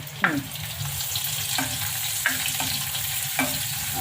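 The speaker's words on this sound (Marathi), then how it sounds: "2 चमचे तुपामध्ये परतून घ्यायचं" Cashews, almonds and raisins sizzle and fry in two spoons of hot ghee, a steady close crackle with a few sharper stirring scrapes and pops at intervals, no voices.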